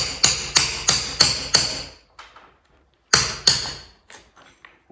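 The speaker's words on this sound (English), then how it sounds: "And since I don't have anything else, I'm using this to get the plaster out." Plaster being chipped out of an old window in a 17th-century chateau chapel: five sharp, evenly spaced hammer-like strikes, a pause, then a few more blows and lighter taps, close and loud.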